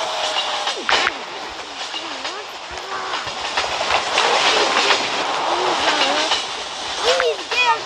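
A Roblox video game train engine rumbles and hisses steadily, with clanking and a voice talking over the noise.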